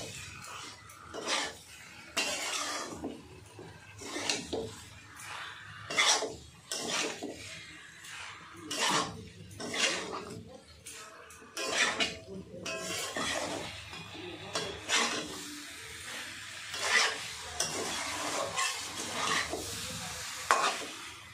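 Boiled potatoes are mixed into a sizzling jackfruit and shrimp curry, with a spatula scraping and clanking in the pan in repeated bursts over a continuous close frying hiss.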